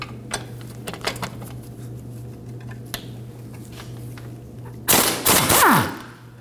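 A ratchet with a 12 mm socket working loose the lower sway bar link bolt on a 2003-2006 Subaru Baja 2.5L H4: faint ticking clicks under a steady hum, then a louder burst of fast ratcheting near the end.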